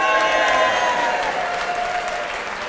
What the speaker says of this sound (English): if you believe, yes, Team Australia should be disqualified, a big applause right now